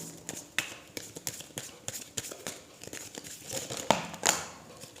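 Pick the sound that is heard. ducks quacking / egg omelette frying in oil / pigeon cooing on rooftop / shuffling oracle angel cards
shuffling oracle angel cards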